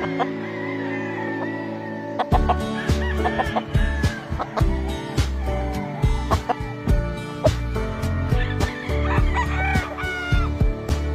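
Gamefowl chickens on a farm cluck and crow repeatedly, some close and loud, others farther off, with sharp peck-like knocks scattered through a busy, layered chorus.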